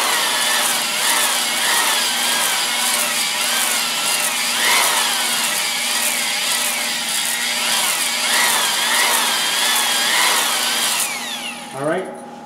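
A power drill spins a hone inside an engine block cylinder wall lubricated with WD-40, a loud steady whirring grind with a rising and falling scraping tone, stopping near the end as the tool winds down.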